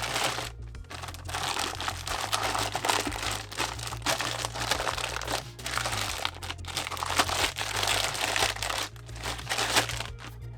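Plastic packaging crinkles and rustles continuously as a dual-monitor 4K HDMI KVM switch is unwrapped, close and steady with bursts of crumpling and no talk.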